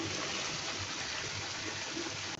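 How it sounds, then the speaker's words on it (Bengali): Coconut milk being poured into a pan for an egg and potato curry: a steady, soft liquid hiss and trickle running unbroken for a couple of seconds, close and alone. "এখন নারকেল দুধ দিয়ে দেবো"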